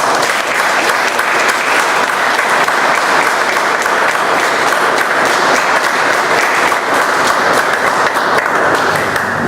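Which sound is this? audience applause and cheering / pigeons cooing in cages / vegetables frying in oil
audience applause and cheering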